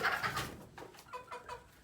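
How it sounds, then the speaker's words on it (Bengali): Soft, close clucking from a few chickens eating water spinach, short murmured calls repeating at a relaxed pace over quiet surroundings. "মুরগি তো কলমি শাক খায় সেই জন্য"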